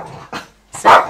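A dog barks indoors, two short sharp barks separated by a brief pause, close and loud.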